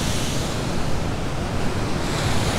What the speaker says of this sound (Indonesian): Kalian bisa lihat sendiri bagaimana besarnya ombak dari Pantai Seger ini.